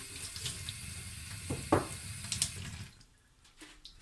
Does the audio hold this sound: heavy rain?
no